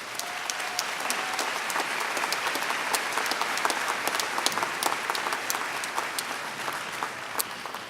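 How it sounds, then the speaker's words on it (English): Graduation ceremony crowd clapping for newly introduced trustees and officials, a sustained, fairly distant roar of many hands with sharp individual claps popping out, faint under the room's reverberation, no speech over it. "Let's give them all a round of applause"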